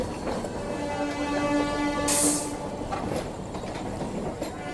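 Inside the Howrah Amritsar Mail pulling out of Howrah station: a low rumbling rail drone with faint clanks, a brief hissing burst, and a thin sustained tone, all fairly quiet with no talking.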